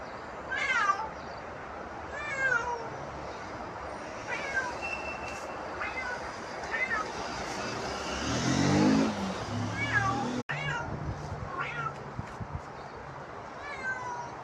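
A mother cat searching for her lost kitten meows again and again in short, plaintive calls at close range, with faint traffic noise in the background.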